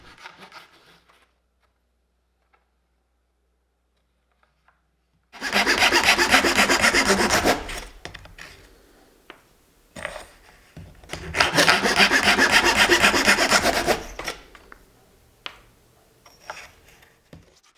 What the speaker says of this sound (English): Then I'm going to cut 16 1-inch long pieces, 8 of each wood.